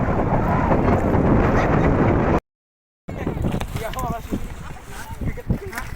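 Heavy wind gusts across the water at a fish-feeding area batter the microphone in a loud, steady roar, then cut out abruptly; after a brief gap, quieter wind returns under people talking.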